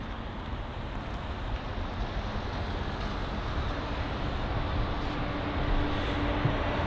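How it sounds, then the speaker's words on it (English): A jet aircraft going around at London Heathrow on Easter Sunday, a steady broad roar that holds at a distance and swells slightly toward the end, with no voices over it. "so first go around of the day"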